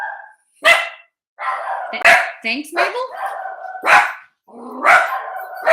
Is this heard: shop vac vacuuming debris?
no